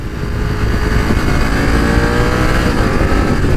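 A BMW F900XR motorcycle engine revs and runs steadily at close range, a loud, continuous mechanical roar that holds even throughout.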